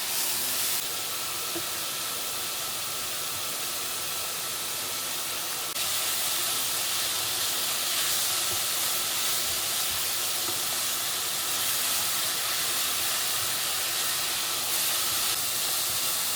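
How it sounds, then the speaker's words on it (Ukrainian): A steady, broad sizzle and hiss of mushrooms frying in a hot pan continues without pause, growing slightly louder partway through. "Нам потрібно, щоб грибочки підрумянилися і не залишилося в сковорідці вологи"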